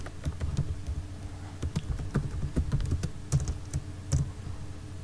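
Typing on a computer keyboard while building an HTML and CSS website template: a continuous run of quick, close key clicks in an irregular rhythm, with no voices.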